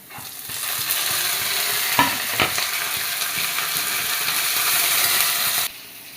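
Beans, green chillies and curry leaves sizzle steadily in a hot pan with a little fennel, a bright continuous frying hiss with a couple of sharp scraping stirs, stopping abruptly near the end.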